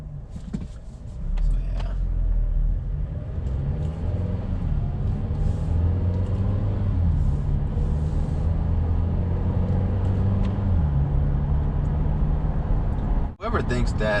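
Steady engine rumble from a paddle-shift car driven on the road in winter, with the engine note stepping down in pitch as it downshifts and a brief dip near the end; a person talks over the drone.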